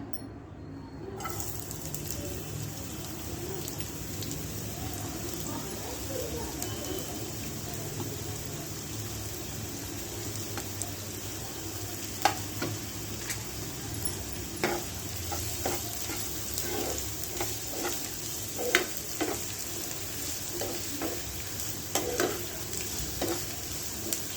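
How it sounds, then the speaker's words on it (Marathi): Chopped onion fries in hot oil on a heated tawa for a prawn fry dish, a steady sizzle with stirring scrapes and occasional clinks of a utensil, close and continuous without speech. "तवा गरम झालेला आहे, त्याच्यात तेल टाकलेलं आहे। आता आपण टाकणार आहे कांदा।"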